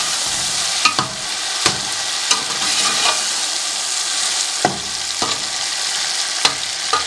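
Green chillies and ginger-garlic paste fried in a pan, a loud hissing sizzle broken by regular scrapes and taps of the stirring spoon every second or so, close up with no speech.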